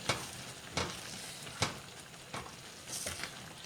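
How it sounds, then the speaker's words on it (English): An apricot mixture for honey-sweetened apricot lavender butter bubbles in a pot at a boil, a steady soft hiss broken by a regular series of sharp pops and spits, close by with no talking. "I got a nice boil going on right now, and what we want to do is simmer this for 15 minutes until the apricots start to break down"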